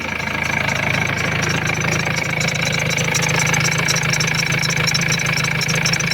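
Ford Transit 2.2 diesel engine idling steadily just after starting, a close, even clattering run with a faint rhythmic chatter from a belt, continuous and without speech.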